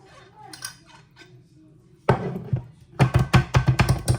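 An upturned plate tapped in a kitchen while preparing seffa medfouna, a quick run of close, sharp clinking knocks in a rapid rhythm after quieter handling noises.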